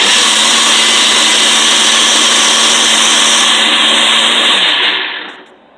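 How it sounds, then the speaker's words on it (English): A small bullet blender whirs loudly and steadily for several seconds blending cashews and water, a dense grinding roar that spins down and stops at the end. "So I'm going to put it in my bullet here with my cashews and my water."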